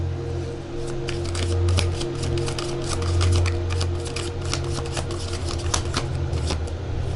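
Tarot cards being shuffled and riffled in a steady run of crisp, rapid flicks, close and fairly loud, over a low steady hum in the background.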